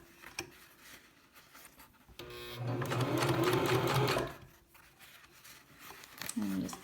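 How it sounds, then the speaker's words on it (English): A sewing machine zigzag-stitches coiled rope onto the upright handle of a rope bowl, running in one steady mechanical burst of about a second and a half, close and fairly loud, with someone talking before and after. "I am just zigzagging it to my handle that's sticking up."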